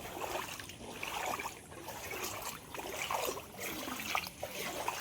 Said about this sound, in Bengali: এই জল ঠেঙিয়ে যেতে হবে